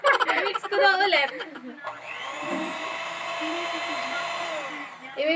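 An electric mixer whirs steadily through a coffee ice cream base, a continuous loud motor hum that holds for several seconds after a burst of talk at the start.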